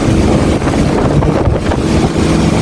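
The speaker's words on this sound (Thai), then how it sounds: "อันนี้บรรยากาศลมเย็นมาก" Loud, constant wind rushes past a moving city bus on route 166 between Muang Thong Thani and Victory Monument, buffeting the microphone with no talk.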